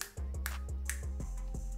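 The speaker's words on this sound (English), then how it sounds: "Snapping my fingers." Fingers snapped repeatedly in a quick, fairly even rhythm, about six sharp dry clicks close to the mic over a steady low hum.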